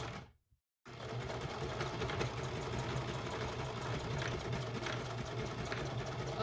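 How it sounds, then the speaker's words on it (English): After a short silent gap, a sewing machine stitches fabric for a bag with a steady, close, continuous motor hum and rapid needle rattle that runs unbroken to the end. "This is how you make a nice sharp turn on a sewing machine"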